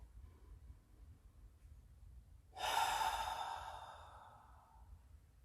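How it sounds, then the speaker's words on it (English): During a beginner yoga exercise, one long deep exhale comes in as a breathy whoosh that starts suddenly and fades out over a couple of seconds. It is close and soft against a quiet room. "And you breathe."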